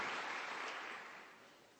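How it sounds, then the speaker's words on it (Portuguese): A church congregation claps during a Sunday service, a dense wash of applause that starts full and gradually fades toward the end, heard at a distance with no talking. "creia e libere um aplauso ao Senhor em nome de Jesus"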